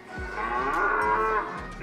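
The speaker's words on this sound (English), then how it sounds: "Press the moo-moo, Papa. Press the moo-moo." Cow moo sound effect from an arcade game button at a family pizza-and-games venue: one long, drawn-out electronic moo, loud and clear, with a few faint beeps and thuds around it.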